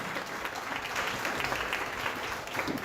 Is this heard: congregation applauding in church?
yes